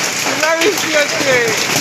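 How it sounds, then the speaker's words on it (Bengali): Heavy hail pelting down around people outdoors, a dense continuous patter and clatter of stones striking surfaces close by, with excited voices speaking over it. "প্রচন্ড শিলা বৃষ্টি হচ্ছে আমাদের উপরে।"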